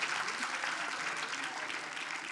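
Audience applause fills a talk-event hall, a dense and steady wash of many hands clapping at once, holding at an even level throughout with no voices over it.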